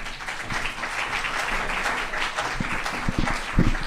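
A conference audience applauds a speaker taking the stage at an acoustics session, loud steady clapping from many hands throughout, with a few sharper claps standing out near the end.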